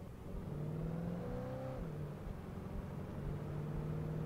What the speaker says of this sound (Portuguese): E agora a gente vai pegar esse carro.